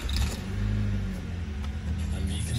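A Mini Cooper S engine fires up via its keyless push-button start, giving a steady, close, low rumbling idle with a slight rev throughout.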